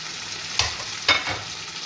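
Meatballs drop onto frying tomatoes in a pan, two quick soft thuds that each set off a brief burst of sizzling over a steady low hiss, close and without speech.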